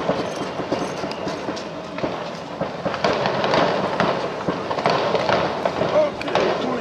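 A train rumbles and clatters steadily along the rails, with people talking over the noise.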